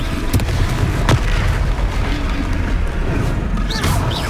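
A Confringo fire spell blasts in the Hogwarts Legacy combat game, producing heavy booming explosions over a constant loud rumble. Sharp bursts crack through at intervals, with no clear talk during them.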